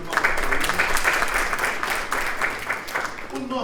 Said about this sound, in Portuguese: Salve de palmas.